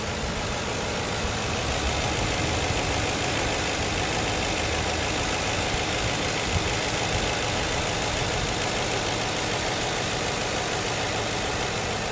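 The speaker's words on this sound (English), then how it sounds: "I'm going to be quiet now, like that you're able to hear the engine idle." A 2009 Ford Crown Victoria Police Interceptor engine idles steadily and alone at close range, a constant even rumble with no voices over it.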